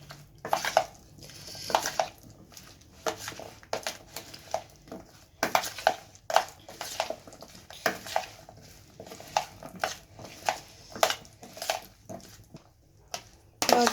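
Banana slices being tossed with a spice mix of turmeric and black pepper in a bowl, giving irregular clinks, scrapes and soft wet stirring knocks in uneven bursts, close by and without talk.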